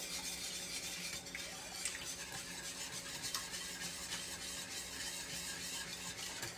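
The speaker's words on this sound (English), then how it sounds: "Always take your whisk and whisk this up really well now because you want to have this mixed up good" Wire whisk beating eggs and German chocolate icing mixture in a bowl, a continuous quiet scraping and swishing rhythm close by with no talking.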